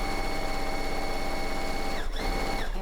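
A sewing machine stitches along the edge of fabric for a drawstring bag, its rapid, even mechanical chatter running steadily up close, briefly dipping before resuming, with no talk over it.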